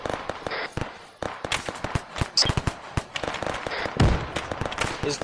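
Gunfire and explosions crackle through a street fight in the video game ARMA 3, where a fragmentation grenade goes off among dense, rapid, loud bursts that continue throughout.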